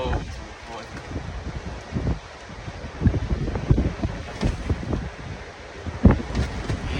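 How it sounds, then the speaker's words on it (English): Strong wind gusts buffet an outdoor microphone, loud rumbling blasts rising and falling in repeated surges over several seconds, with someone talking at points. "that wind gust is crazy right now"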